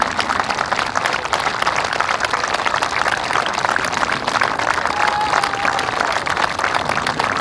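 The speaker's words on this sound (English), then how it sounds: "she applauds the fans who applaud her" Sustained applause and cheering from a crowd of golf fans greeting the champion at the final round of the Women's Amateur Championship 2024, steady and dense throughout, with crowd noise filling the background.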